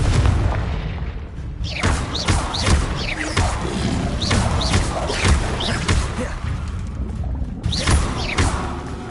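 Confringo blasting spells exploding in Hogwarts Legacy combat: a rapid series of loud, booming blasts and thuds, one after another, with a voice faintly present under the dense barrage.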